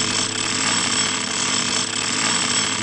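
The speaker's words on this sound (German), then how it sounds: "Bohrer da hinten" A jackhammer-style drill in the Simon the Sorcerer adventure game hammers continuously with a harsh, rapid rattling buzz that stays loud and steady throughout, with no voices over it.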